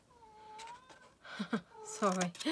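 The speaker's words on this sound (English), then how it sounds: "My cat's just wandered in, say hello." A pet cat wandering into a room gives several short meows and whiny calls in quick succession, close and fairly quiet, with a person speaking around them.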